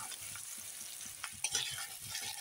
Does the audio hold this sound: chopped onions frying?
yes